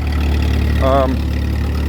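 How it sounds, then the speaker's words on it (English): An Allis Chalmers plow tractor with a 3-point hitch and hydraulics idles nearby, a steady low engine rumble throughout with a brief higher tonal whine partway through. "But this is a plow tractor, and it's got a 3-point hitch and all hydraulics and everything."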